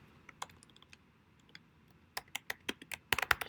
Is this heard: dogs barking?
no